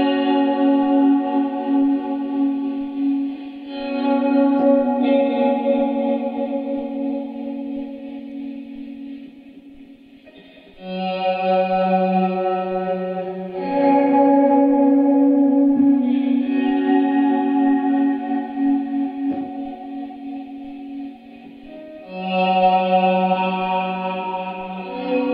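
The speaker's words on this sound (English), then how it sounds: "if we move on to this swelly guitar sound" Swelling electric guitar chords played through several amps in a treated home studio room, sustained and loud with chorus, echo and reverb effects, phrases rising and fading in slow waves without talk.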